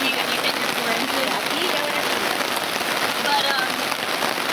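Steady rain pattering on a surface at a natural building workshop, a dense, even hiss that stays constant throughout with only slight swells, and no voices heard.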